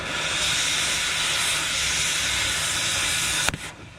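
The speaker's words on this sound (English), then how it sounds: "I gotta cut some of this old weld off to give me some space to bring the new one in." An old weld is cut off the ROPS of a John Deere 450B crawler dozer, a loud, close, continuous harsh hiss and roar that breaks off abruptly near the end.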